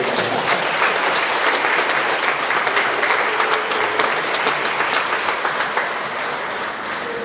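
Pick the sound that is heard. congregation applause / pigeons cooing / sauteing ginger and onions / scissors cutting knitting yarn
congregation applause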